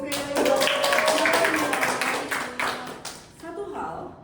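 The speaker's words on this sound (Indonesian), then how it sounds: "Tepuk tangan sekali lagi." An audience in a teaching session gives a brief round of applause, scattered clapping from a group, fairly close, under and between a presenter's speech before it fades out.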